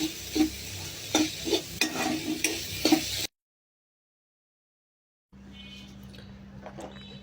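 Onion stalks frying in oil in a wok crackle and sizzle close up, with several sharp stirring knocks. A silent gap follows, then a quieter, steady sizzle resumes.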